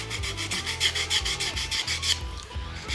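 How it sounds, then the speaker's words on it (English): A starter's surface rubbed by hand with 600 grit sandpaper: close, soft rasping strokes repeating in a quick, steady back-and-forth rhythm, fairly quiet, with no talk. "This is just some 600 grit sandpaper."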